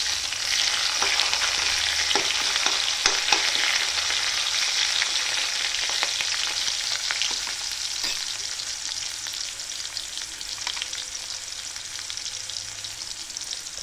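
Onion sizzling loudly in hot oil in a pan already holding crackled mustard seeds and garlic, with occasional scrapes of stirring, steady and close throughout.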